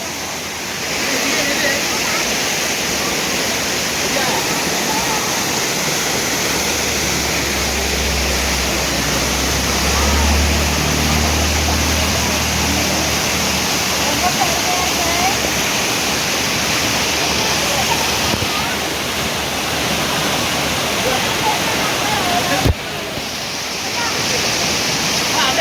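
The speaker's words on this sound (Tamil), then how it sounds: "கல்லார் வாட்டர் ஃபால்ஸ் பார்த்தீங்களா?" Kallar waterfalls near Munnar roar as a loud, dense, continuous rush of falling water, steady throughout with a low rumble partway through.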